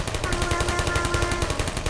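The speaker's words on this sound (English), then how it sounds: "It has been replaced with a live fire course designed for military androids." Rapid automatic gunfire from a live fire course in the video game Portal, a loud, continuous burst of evenly spaced shots filling the whole stretch with no talking.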